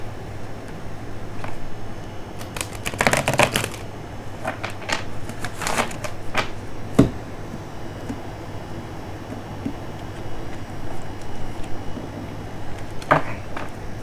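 Oracle cards being shuffled in short bursts of papery riffling and flicking, with clusters of quick slaps around the middle and a brief burst near the end over a quiet room background.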